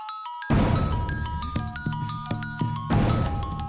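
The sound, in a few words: mobile phone ringtone ringing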